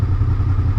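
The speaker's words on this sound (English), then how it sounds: "The tensioning springs tend to loosen and you get a little bit of clacking noise" Honda VFR750 motorcycle engine with loosened cam gear tensioning springs, running with a steady low throb and a faint continuous clacking rattle from the gear-driven cams, close and alone.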